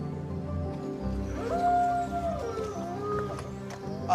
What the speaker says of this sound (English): I'm hearing wolves howling